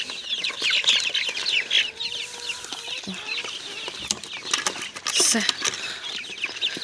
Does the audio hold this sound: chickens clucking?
yes